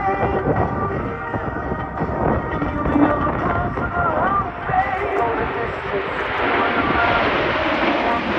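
Snowbirds jets fly overhead at the Quinte West Airshow, producing a loud, continuous engine roar that fills the whole stretch and swells slightly toward the end, with a commentator's voice faintly under it.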